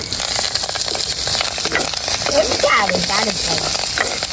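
Fennel and spices sauté in a pan for a Jaffna-style mango curry, a steady close sizzle with occasional stirring scrapes, while a voice talks over the cooking.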